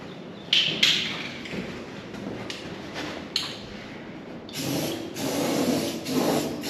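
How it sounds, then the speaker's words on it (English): Aerosol paint sprays onto bare metal of a new shipping container vent in short hissing bursts, with a few sharp clicks and knocks between, the longest sprays coming near the end. "So we'll give the outside and the inside a spray. Cover up any bare metal."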